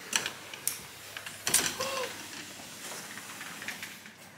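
Bolt on a villa balcony door being unlocked, giving a few faint metallic clicks and a short scraping rattle against steady background hiss, with no talking.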